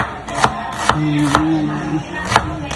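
A knife slicing through onion on a cutting board for a corn and fried milkfish dish, a few sharp, evenly spaced chops close by over quiet background hum.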